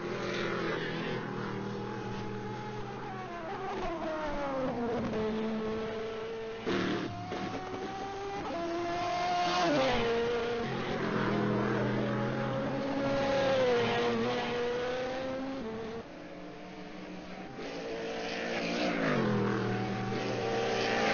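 Formula Racing Audi race car engines in a sim racing game at Road America, a steady loud engine drone with rising and falling revs and gear shifts, continuous throughout.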